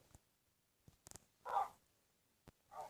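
A dachshund dog in a Minecraft dog mod gives a few short, separate barks with quiet gaps between them, one louder yelp in the middle, all fairly close and without talk.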